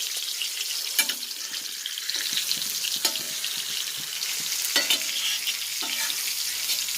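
Cheela fish roasting and frying in coconut oil in a pan gives a bright, continuous sizzle, broken by a few sharp clicks and stirring sounds.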